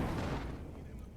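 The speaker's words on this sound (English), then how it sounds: "And another grenade." In the video game Cyberpunk 2077, a grenade explosion booms loud and close, a dense low rumbling blast that fades over about a second.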